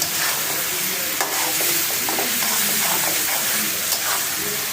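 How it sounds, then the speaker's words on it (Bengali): Shing fish (stinging catfish) cooks in a pan, making a loud, dense, continuous sizzle close by, with faint stirring scrapes and a couple of sharp clicks. "এটা হচ্ছে শিং মাছ গুনা করতেছি"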